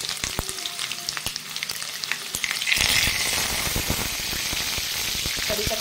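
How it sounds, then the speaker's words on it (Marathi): Mustard seeds, cumin and garlic hit hot oil and burst into a loud, steady sizzle with crackling pops, after a quieter moment of faint kitchen sounds. "तेल चांगलं गरम झालंय, आता त्यामध्ये आपण टाकूया मोहरी, जिरं"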